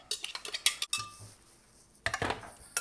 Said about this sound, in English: I'm just going to mix it up.